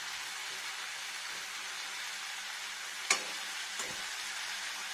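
Boiled arum and pumpkin being sautéed with spices in a pan, a faint, steady soft sizzle with two brief scraping knocks of a spatula.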